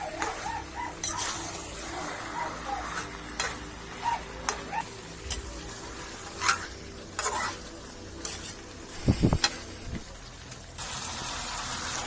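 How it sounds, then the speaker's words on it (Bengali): A spoon stirs chicken pieces and potatoes sizzling in a pot with tomato for a Bengali chicken kosha, giving repeated scraping strokes and a steady frying hiss, close by with no talk. "তুলে এবার নাড়া দিয়ে দিচ্ছি"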